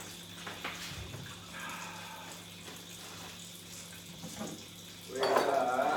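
Filtered water runs from a kitchen tap into a pot for slow-cooking chickens, a steady low rush under quiet background noise, swelling louder near the end as the vessel fills.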